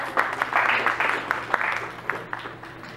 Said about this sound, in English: And to give her round of applause.